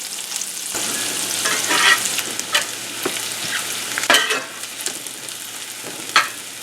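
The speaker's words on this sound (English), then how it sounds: "we'll start off with getting the onions sauteed" Onions sauteing in bacon grease in a pan as liver and onions are made, a steady close sizzle and crackle with occasional stirring scrapes and clicks, no talking.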